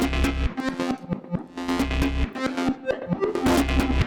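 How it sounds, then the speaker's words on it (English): Rhythmic electronic music with punchy bass hits and a subtle distorted grit coloring the ends of phrases. "a little bit of distortion toward the end of each phrase"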